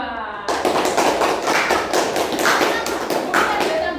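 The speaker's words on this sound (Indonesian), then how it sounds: "Oke, tepuk tangan untuk kelompok 2." A classroom bursts into applause for a student group, loud, dense clapping from many hands starting abruptly and continuing steadily close by.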